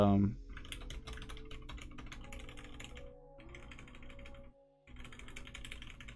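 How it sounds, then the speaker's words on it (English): Fast, continuous typing on a linear-switch mechanical keyboard, soft clacks of keycaps hitting the plate in a quick steady patter, with a brief pause near the end before it resumes. "the only noise is from like the keycap hitting the back plate"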